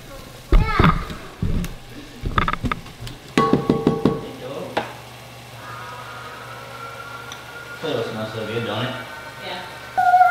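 Onions and peppers sizzle in a pan in a home kitchen, a soft steady frying hiss beneath clattering utensils and bursts of conversation.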